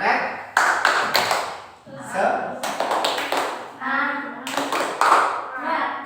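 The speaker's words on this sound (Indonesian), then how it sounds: "Sekali lagi tepuk semangat." Children in a classroom perform a rhythmic clapping chant, several bursts of quick, sharp, close claps interleaved with their chanted voices.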